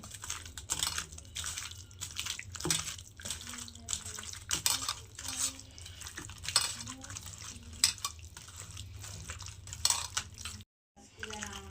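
Onion being mixed by hand with raw mustard oil in a bowl for a chicken marinade makes repeated wet squishing and rubbing sounds, with occasional clinks of the bowl and a brief silent gap near the end.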